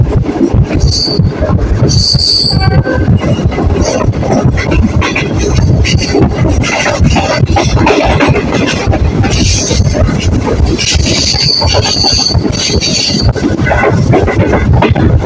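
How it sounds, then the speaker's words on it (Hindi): Pakistan Railways Green Line train running along a descent, with repeated brake application, wheel squeal and rail noise, plus bushes brushing against the cars; loud, continuous rumbling with high squealing tones coming and going. "उतराई है तो ड्राइवर साहब बार बार ब्रेक अप्लाई कर रहे हैं"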